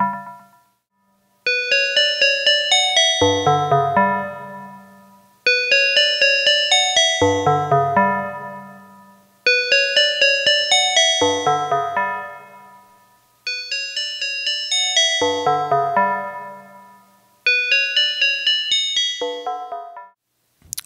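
A Roland System 8 synthesizer plays a bell-like tone with delay and reverb: five repeated melodic phrases of bright chiming notes, each trailing off in echoing decays, loud and clear with no talking.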